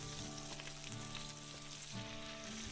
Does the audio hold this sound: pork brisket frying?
yes